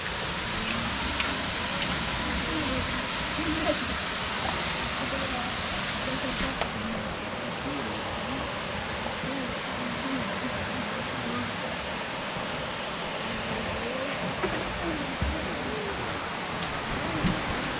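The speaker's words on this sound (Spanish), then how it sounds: "tenemos solo para nosotros esta cascada ahorita" A waterfall pours steadily and close by, a dense unbroken rush of falling water that holds the same level from start to finish.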